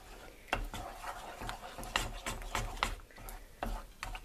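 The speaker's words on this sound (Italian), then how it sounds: "mescolo bene questi ingredienti" Ingredients for homemade corn paste, including oil and Johnson's oil, are stirred in a bowl with close, scraping strokes that come in an irregular rhythm of about a dozen rubbing swipes, fairly quiet with no talking.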